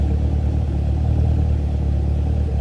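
Deep, steady exhaust rumble from an idling 2015 Chevrolet Camaro 2SS, low and throbbing, close by with no talking.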